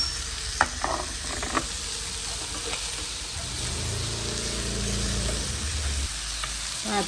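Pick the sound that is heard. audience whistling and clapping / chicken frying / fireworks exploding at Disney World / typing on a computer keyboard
chicken frying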